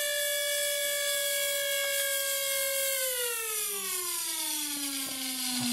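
A Bedini recovery circuit motor spins near 40,000 RPM, giving a loud, steady high-pitched whine with strong harmonics that holds, then gradually drops in pitch toward the end, with no talking.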